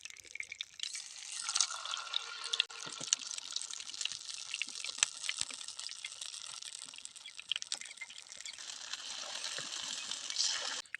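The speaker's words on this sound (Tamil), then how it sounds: "இந்த மாதிரி எண்ணெய் தடவி பணியாரம் ஊற்றலாம்." Red sorghum batter is poured into a hot, oiled paniyaram pan, with a faint, continuous sizzling crackle throughout.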